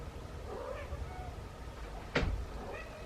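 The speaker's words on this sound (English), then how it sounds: "Richard's meowing at her." A cat gives a single short meow, close by, against a quiet indoor room with a faint low hum and some light shuffling.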